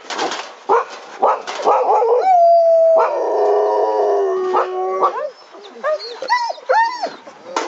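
Dogs bark and howl close by, with a long sustained howl in the middle flanked by short yelps and barks; people's voices mix in.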